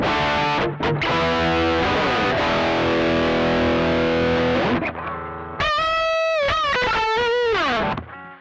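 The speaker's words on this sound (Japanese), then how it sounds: "これが SD1 通すことによって、ドライブが増えるっていうのもそうなんですけど、ミッドにすごく寄った音になる" Gibson ES-335 electric guitar with humbuckers played through a BOSS SD-1 Super Overdrive pedal: a thick, mid-heavy, sustained distorted chord ringing loud, then a burst of bent single-note lead lines, no talking.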